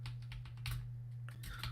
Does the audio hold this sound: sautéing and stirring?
no